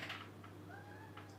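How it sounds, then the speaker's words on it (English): A cat at a window gives a soft, drawn-out meow, faint and fairly distant over a low steady hum, with no talking. "it's the cat at the door, at the window."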